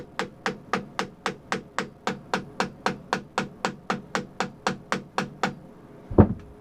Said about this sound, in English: Just tap the ring around a little bit.